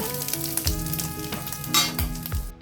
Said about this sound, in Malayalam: നല്ലൊരു വറവ് നമുക്ക് കടുകിട്ട് കൊടുത്ത് വറ്റൻമുളകും കരുതി ചേർത്ത് കൊടുക്കാണ്.